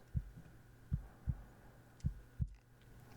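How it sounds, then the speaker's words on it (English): A steady heartbeat thumps low and close in an intimate setting, six soft pulses at a slow resting pace with faint hum between beats and a brief rustle near the end. "Do you hear my heart beating through my chest as I rest my chin on top of your head?"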